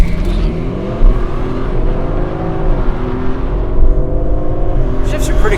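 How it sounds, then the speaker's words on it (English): An Audi RS5 with the competition package accelerates hard through an 8-speed automatic, its engine loud and close with a rising drone and quick shifts. Someone talks over it now and then. "I too must test this acceleration,"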